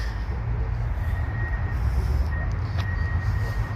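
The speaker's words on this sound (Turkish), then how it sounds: "Evet geliyor tramvay." A tram arriving at a stop in Paris, heard as a steady low rumble with a faint high whine and a brief squeal, close and continuous, with no talking.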